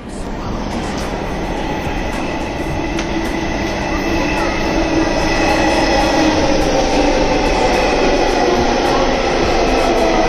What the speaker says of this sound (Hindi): ये आ चुके हैं हमारे मेट्रो।